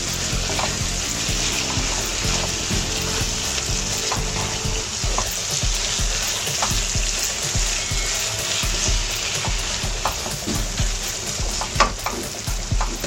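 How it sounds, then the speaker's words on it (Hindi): Potatoes and softened tomatoes fry in a pan for aloo qeema while a spoon stirs them, giving a steady, loud sizzle with scattered scraping clicks of the spoon throughout. "अब हम इसके अंदर सारे आलू भी डाल देते हैं और इसको थोड़ा चमचा चला के भूनते हैं।"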